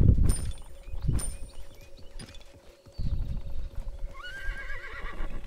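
Horse hooves clip-clopping at a steady gallop with neighs and whinnies, from a mount in the video game Realm Royale, loud and close with game sound effects layered around it.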